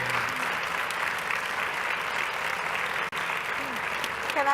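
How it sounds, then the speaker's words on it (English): An audience applauds a departing leader at a community wealth conference closing plenary; sustained, even clapping throughout, with a brief dip near the end and faint voices underneath. "So let's give her a round of applause."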